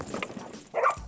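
Working dogs give a single short bark close by near the end, after a stretch of low background noise and faint movement.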